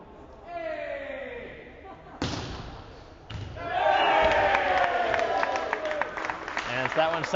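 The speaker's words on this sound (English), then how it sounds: "the Newton North crowd just cheers it out for the Womps" Crowd at a boys' high school volleyball match against Newton North cheers and claps loudly in a gym, the roar swelling after a sharp ball slam and carrying on under a commentator's voice.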